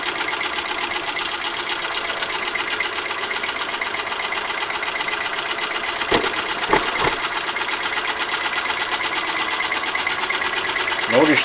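An over-and-under Stirling hot air engine with a Scotch yoke, heated by a can of Sterno, running in a steady, fast, even mechanical whir close by, broken by a few faint knocks.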